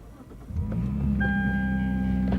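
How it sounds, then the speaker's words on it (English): A Lexus with a modified exhaust turns over and settles into a deep, steady rumble with a throaty exhaust tone, close by, no talking. "she souped up the exhaust. It sounds a whole lot better."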